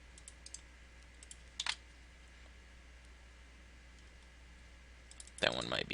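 Computer mouse clicks answering a Norton Internet Security 2010 prompt, a few quiet separate clicks followed by a louder cluster near the end, against a faint background hum.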